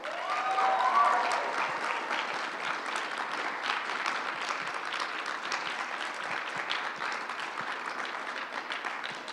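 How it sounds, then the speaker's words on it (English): Sustained applause from an audience at a slam poetry night, clapping for a performer, a dense and steady patter of many hands that swells at the start and holds for about nine seconds. "let's give her another round of applause"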